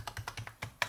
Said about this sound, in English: So we put in his PIN and hit enter.